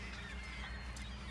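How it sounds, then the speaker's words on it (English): Birds in a morning feeding frenzy on a Cape Cod beach, honking, goose-like calls repeating faintly over steady low background noise. "the birds are kind of freaking out this morning"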